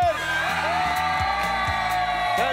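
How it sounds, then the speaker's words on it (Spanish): A television studio audience on a Bolivian game show whoops and cheers loudly in one sustained burst, with music-like tones running beneath the crowd. "¡Un grito del público este viernes!"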